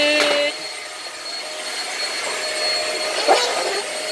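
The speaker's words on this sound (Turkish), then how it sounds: "Kapatıyorum süpürgeyi" A Bosch toy vacuum cleaner runs with a steady whirring, whining hum, a higher-pitched tone dropping off after half a second and the motor continuing at a constant level.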